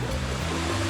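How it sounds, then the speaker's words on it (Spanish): La Cebollita waterfall in a humid jungle forest in the Huasteca Potosina, Mexico, a constant loud rushing roar of falling water heard close by. "Con ustedes, amigos, la cascada La Cebollita."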